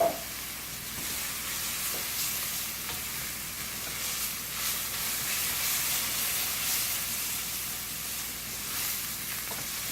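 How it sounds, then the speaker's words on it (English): Garlic and onions sauté in a hot pan, a steady close sizzle and crackle with light stirring scrapes throughout and no talking. "after you've sauteed your garlic and onions for about a minute or so"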